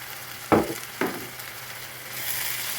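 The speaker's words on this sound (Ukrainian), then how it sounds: "Оп, смажую, поки смажиться" Liver and seasonings fry in a pan, giving two sharp sizzling bursts over a low hiss before a gentler, steady sizzle builds, close and alone with no talk.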